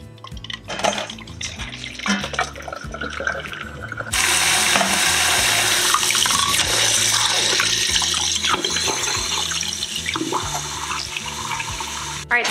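Boiled eggs strained in a kitchen sink: a few clinks and knocks of a pot and eggs at first, then a loud steady gush of running tap water pouring into the sink, no talking.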